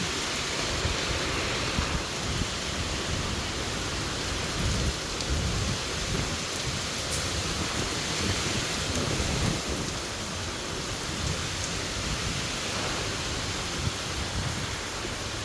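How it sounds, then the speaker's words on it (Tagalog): Heavy typhoon rain roars continuously with strong wind gusting and rumbling low underneath, loud and close, with no voices. "Lakas ng hangin."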